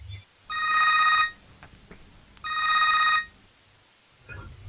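A telephone rings in two long electronic bursts with a pause between, clear and fairly close in a quiet room, followed by faint low sounds.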